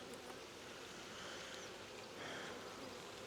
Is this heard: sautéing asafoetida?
no